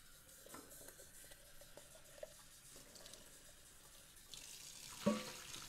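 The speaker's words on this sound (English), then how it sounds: "Now we're just going to rinse this out one more time." Tap water runs into a sink while a pesto container is rinsed out, a faint steady stream with small splashes and clinks, growing louder near the end.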